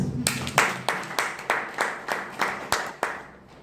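Clapping from an audience at a talk, heard as about ten distinct, evenly spaced claps at moderate loudness with no talk over them.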